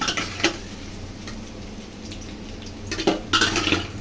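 Meal maker soaked with egg being sautéed in hot oil, a low steady sizzle under intermittent clinks and scrapes of a spatula against the pan, close, with stronger stirring bursts near the start and end.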